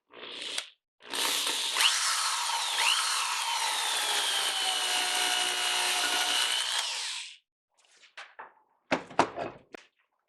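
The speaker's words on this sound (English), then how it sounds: "I'm going to drill a pilot hole." An electric drill whirs loudly for about six seconds after a short burst, drilling a pilot hole in mandolin work, then stops, followed by a few clicks and clunks.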